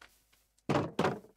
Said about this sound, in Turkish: O kapıyı kapatacağım.